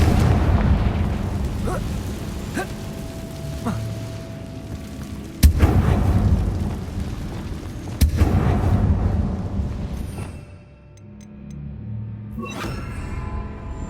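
Confringo fire spell explosions in the video game Hogwarts Legacy: two sharp, loud booming blasts with rumbling tails over a continuous dense game soundscape, the din fading briefly before rising again.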